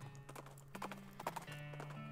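Horse hooves clip-clop steadily in the West of Loathing video game, a quick close rhythm of several hoofbeats alongside a sustained musical tone, with a possible brief whinny.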